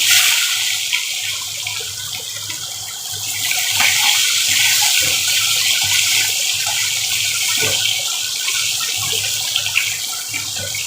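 Sliced boiled eggs fry in a salted pan, giving a steady, loud, continuous hiss and bubbling sizzle that holds without breaks throughout, with no voices.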